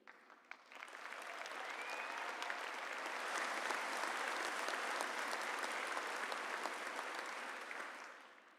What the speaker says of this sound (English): Please join me in giving a well-deserved round of applause to our outstanding faculty and staff